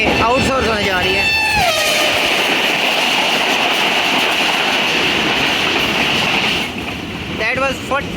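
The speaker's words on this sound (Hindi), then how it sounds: "that was 47 of Rahman Baba express" The Rehman Baba Express train rushes past close by in heavy rain, a loud sustained roar and rattle of wagons with a horn sounding at the start and near the end.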